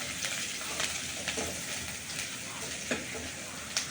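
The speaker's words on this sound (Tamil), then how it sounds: "வெங்காயம் நல்லா வதங்கணும்." Onions sauté in cold-pressed groundnut oil in a kadai, giving a steady close sizzle of frying with faint stirring scrapes and no talking.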